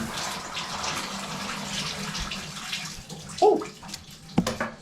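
Water streaming steadily from a newly replaced shower head and arm, a close, continuous hissing spray with a few knocks and a brief exclamation partway through.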